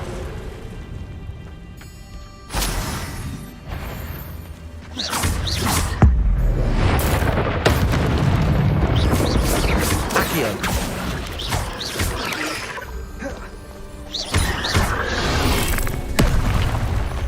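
The Incendio fire spell in Hogwarts Legacy erupts as a loud, roaring burst with crackling, hissing layers and a heavy boom, surging again near the end over a constant rumbling game background.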